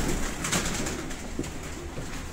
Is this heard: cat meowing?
no